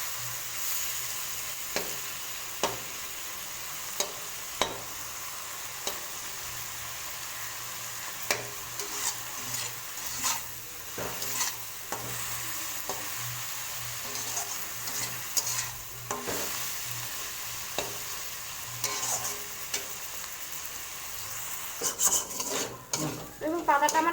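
Taro leaves fry in a pan with a continuous soft sizzle, broken by repeated scraping stirs and occasional utensil taps against the pan, close and steady, with a few sharper knocks near the end.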